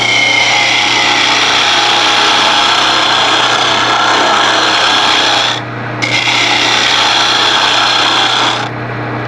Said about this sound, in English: as I'm cutting on the left-hand side of that tool, just gentle cuts